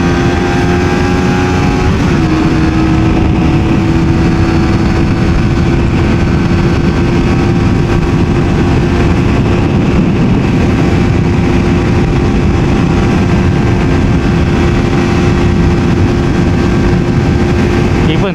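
A Suzuki GSX-S150 small naked motorcycle engine drones steadily at high RPM throughout, its pitch holding high and even with a brief dip early on, loud and close with continuous wind rush.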